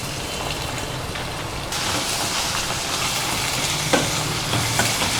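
Curry leaves and chopped small shallots sautéing in a pan for kuzhi paniyaram, giving a loud, dense, steady sizzle that rises after the first couple of seconds, with a few faint stirring knocks and no talking.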